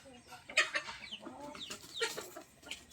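Rhode Island Red chickens clucking and squabbling on a farm, several close, agitated squawks and clucks overlapping in quick irregular bursts.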